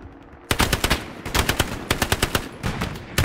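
Rapid automatic gunfire cracks out in the World War II shooter Hell Let Loose, a loud close burst of evenly spaced shots lasting about three seconds with no talking.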